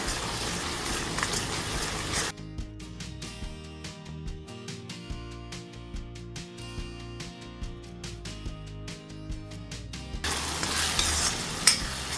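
Chopped onions frying in hot oil in a pan for Gujarati tuver na thotha, a steady close sizzle broken by a rapid run of scraping stirs with a spoon, no talking.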